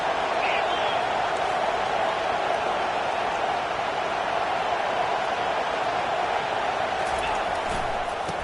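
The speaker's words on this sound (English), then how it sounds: "Now the crowd responding in the red zone, trying to help this defense." Football stadium crowd at an NCAA game roars steadily as the offense nears the goal line, a dense, continuous wall of cheering with a commentator talking over it throughout.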